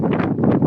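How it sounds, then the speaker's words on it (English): Wind buffets an outdoor microphone in short, loud, low rumbling gusts. "It's been a little bit windy over here."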